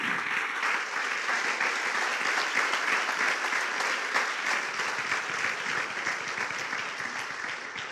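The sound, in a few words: church congregation applauding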